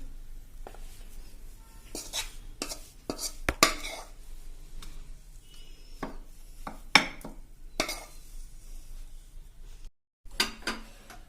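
A spoon scrapes a cooked fenugreek laddu mixture out of a pan onto a plate with a string of sharp metallic scrapes and knocks at an irregular pace, with a brief pause near the end.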